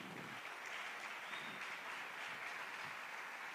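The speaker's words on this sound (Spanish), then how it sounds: "Dele un fuerte aplauso al Señor." A church congregation claps in sustained, even applause during a Christian sermon, a continuous wash of hand claps heard from a moderate distance with no voices over it.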